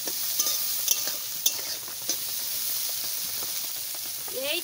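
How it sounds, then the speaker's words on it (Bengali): Soybean chunks fry in a pan while being stirred, giving a steady close sizzle broken by occasional sharp scraping clicks of the utensil. "সয়াবিনটা ভালো করে ভাজা না করলে ভালো লাগে না"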